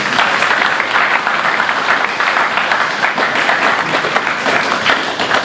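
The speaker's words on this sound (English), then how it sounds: "So I think you can give them a big round of applause." A school crowd at a French middle-school diploma ceremony gives sustained, dense applause for parents and teachers, a steady wash of many hands clapping close by with no pause.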